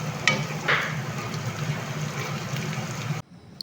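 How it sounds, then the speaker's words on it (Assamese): Onions and green chilies frying in hot oil, a steady close hiss with a couple of brief stirring clinks early on, cutting off abruptly near the end. "এইখিনি গৰম হোৱাৰ পিছত পিঁয়াজ আৰু জলকীয়া দি দিছোঁ আৰু কিছু সময় পিঁয়াজখিনি ৰঙচুৱা হোৱালৈকে ভাজি থাকিম"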